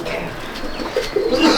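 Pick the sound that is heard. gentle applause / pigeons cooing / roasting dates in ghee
pigeons cooing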